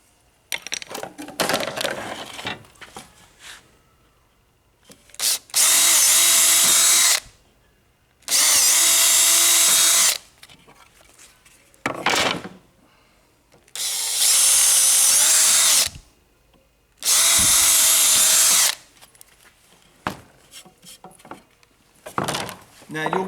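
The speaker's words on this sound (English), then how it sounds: "Then we want to drill two screw holes there." A power drill bores screw holes in timber in four loud, close bursts of several seconds each. Quieter handling clatter and brief knocks fill the gaps between them.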